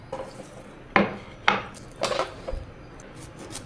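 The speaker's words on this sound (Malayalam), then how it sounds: "ഇന്ന് പൈനാപ്പിളും കൂടി ഒന്ന് കട്ട് ചെയ്യാം" A knife cuts through a ripe pineapple on a board, making four or five separate thuds and crunching slices at an uneven pace, close and fairly loud, over faint background noise.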